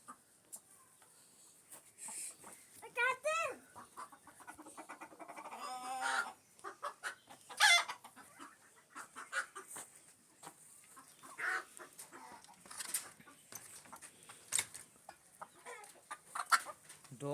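Black Aseel hens clucking in a coop, with repeated close clucks and sharper calls over a steady background of other fowl; no talking.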